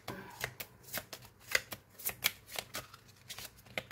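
Cards are shuffled for a bestiary card draw, giving a series of soft, close riffling and slapping bursts repeated in an uneven rhythm, quiet and alone with no talk over them.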